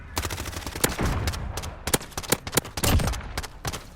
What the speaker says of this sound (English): I was just hip firing, just to hip fire